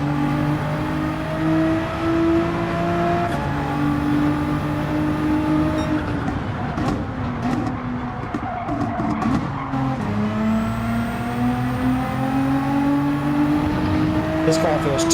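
A race car engine in the Gran Turismo 7 game drives through a lap, revving steadily with gear shifts and brief tire squeal, loud and continuous under a voice talking throughout.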